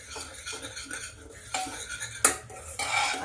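A metal spoon scrapes and clinks quickly against a pan while yogurt mixture is stirred fast so it won't curdle for eggplant kofta curry, with sharp clanks standing out among the brisk stirring, close and fairly quiet.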